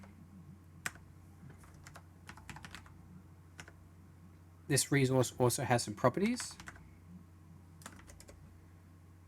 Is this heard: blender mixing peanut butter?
no